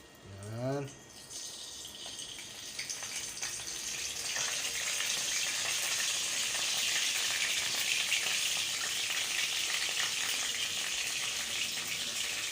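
Lumpia filled with sheep meat sizzle steadily in hot oil, a dense, loud frying hiss that swells after a brief voice at the start and holds continuously to the end.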